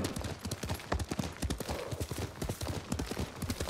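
Rapid hoofbeats of a galloping horse in the video game Ghost of Tsushima, a quick rhythmic clatter continuing throughout at moderate volume.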